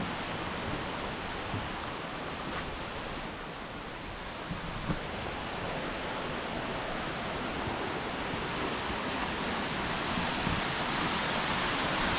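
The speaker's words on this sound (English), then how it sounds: "you're walking up alongside the waterfall like the whole way" Steady broadband rush of a waterfall along a hiking trail in El Yunque rainforest, Puerto Rico, a continuous close roar of falling water with no talk.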